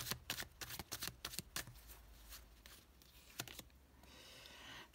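Tarot cards shuffled and laid out, a quick run of crisp riffling flicks followed by a few isolated card snaps and a soft slide, close and fairly quiet with no talking.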